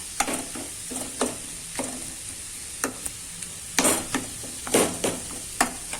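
Boiled sweet potato is mashed in a pan for a sweet halwa, giving irregular soft thuds and scraping taps close by. Nobody talks.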